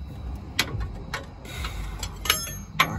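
A wrench working on a differential bolt of a third-generation Toyota 4Runner during a diff drop install, giving several sharp, separate metallic clicks and ticks at irregular intervals over a quiet background.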